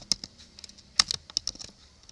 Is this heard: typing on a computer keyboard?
yes